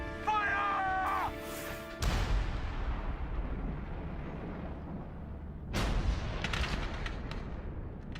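An 18th-century battle at Lake George in which colonial troops fire a musket and artillery volley at advancing French soldiers. A shouted command comes first, then a heavy booming blast that rolls away in a long rumble, followed by a second crashing burst.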